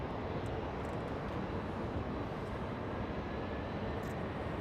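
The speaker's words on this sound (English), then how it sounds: "Avianca. That's an A330." An Avianca Airbus A330 airliner roars at Los Angeles International Airport. The jet noise is a steady, broad rumble that fills the whole stretch without letting up.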